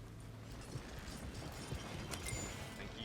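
Horses' hooves clip-clopping in Red Dead Online, a rhythmic trotting patter that is fairly faint and continuous.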